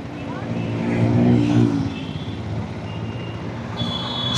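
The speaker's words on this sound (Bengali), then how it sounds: "এখানে খুব জোরে বাইক আর গাড়ি আছে।" Fast motorbikes and cars pass along a busy road where a rider on a GT 650 makes a U-turn; a steady roar of traffic swells as a vehicle rushes by, with constant road and wind rumble.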